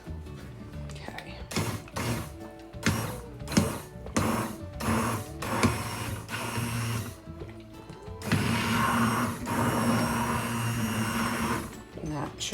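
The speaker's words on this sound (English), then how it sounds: "let's throw in some cheese before we blend. And let's give it a whirl." A Ninja Foodi blends loaded baked potato soup with cheese, pulsing in short whirring bursts before settling into a continuous loud grinding run, close up, with a person talking over it.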